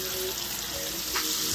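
Buttermilk chicken strips fry in a pan, giving a steady, close sizzle and crackle of hot oil, with a faint clink partway through.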